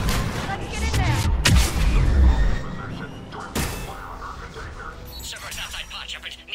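Gunfire at a checkpoint in Mass Effect 3, sharp cracks and booming impacts breaking through alongside voices talking, with sustained combat noise throughout.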